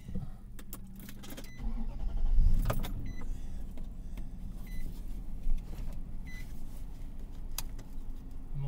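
A car drives along a road near Spring Lake Park, its engine humming steadily with low rumble and passing road noise, a brief louder surge early on, then an even, close drone throughout.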